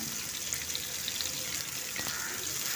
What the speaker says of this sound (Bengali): পেঁয়াজটা তেলের সঙ্গে মিশিয়ে একটু ভেজে নেব